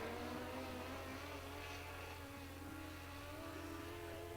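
Streetstock race cars racing at a Meeanee speedway championship meeting, a faint distant continuous engine drone with layered buzzing harmonics, no clear voices.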